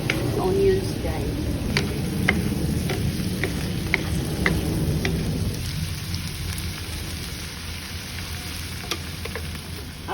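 Onions fry in a pan with a dense, steady crackling sizzle heard up close, louder at first and easing after about five seconds, while a voice speaks briefly.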